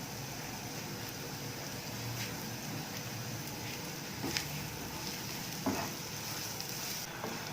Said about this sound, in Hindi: मैदा जैसे ही थोड़ा सा फ्राई होगा